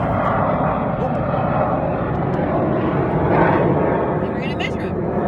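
A fixed-wing airplane passes overhead outdoors at a creek, a steady broad engine roar that swells slightly midway and fills the whole stretch, with faint voices beneath it.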